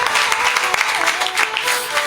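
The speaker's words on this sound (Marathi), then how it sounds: "एकदा जोरदार टाळ्या वाजवा" A crowd at a kirtan gathering on a foot pilgrimage bursts into loud, sustained applause for the kirtan performers, with a dense wash of clapping throughout.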